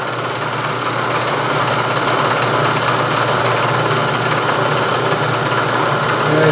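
Milling machine taking a finish cut on a steel carriage stop body while milling the radii, a steady, close, continuous mechanical hum and whir with even vibration, no voices.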